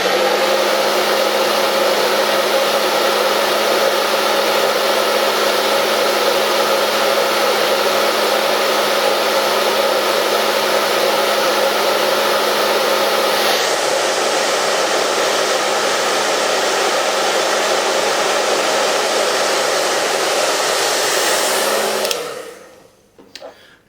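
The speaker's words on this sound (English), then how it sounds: "So now we're going to use the hairdryer to set those hairs flat in against the face." A hair dryer runs continuously and loudly while setting beard hairs flat, a steady whooshing whine that shifts slightly midway before switching off at the end.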